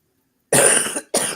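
A person coughs twice at close range, a longer harsh burst followed by a brief second one after a short pause, with no talking.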